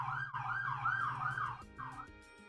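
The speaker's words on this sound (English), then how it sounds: "as sirens go on" A wailing siren in the Tales of Vesperia video game rises and falls in a repeating sweep, loud and steady over a low hum, then cuts off briefly and sounds once more before fading.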